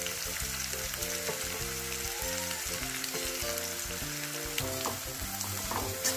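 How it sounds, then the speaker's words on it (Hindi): Chopped onion frying in oil for aloo paratha filling, a close, steady crackling sizzle with light stirring, no talking. "कांदा अच्छे से लाल भून लेना है।"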